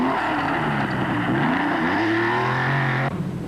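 A Porsche 911 SC RS rally car of the 1984 Belgian rally championship slides through a corner, its engine loud and close, pitch climbing and holding steady before cutting off sharply.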